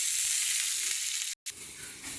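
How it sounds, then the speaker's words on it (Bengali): Onions fry in hot oil with panch phoron and chilli, giving a steady close hiss of sizzling with a brief dropout near the end. "পেঁয়াজটা একটু লাল লাল করে ভাজবো।"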